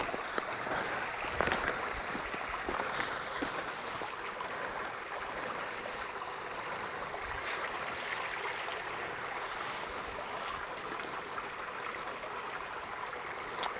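A small stream of running water in the desert near Las Vegas, a soft continuous rushing flow heard close by, steady and fairly quiet without talk.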